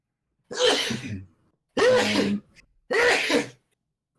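Three loud sneezes in a row, each a sharp burst with a short pause between, close and clear with no talking over them.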